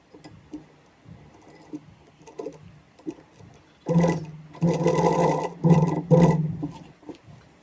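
A sewing machine stitches a seam to set a concealed zip into a kameez shirt. After some faint handling ticks, it runs in several close, loud, whirring bursts separated by brief pauses.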